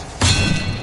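Expelliarmus spell impact in the Hogwarts Legacy video game: one sudden, loud thud-like blast with a crashing edge that rings on briefly before fading slightly.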